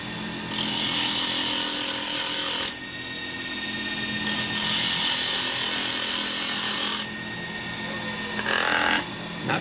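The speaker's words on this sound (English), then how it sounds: "getting some fine shavings even with the detail gouge" Detail gouge cutting fine shavings from wood spinning on a lathe, loud sustained hissing scrapes in two long passes with a shorter third at the end, close up with no talking.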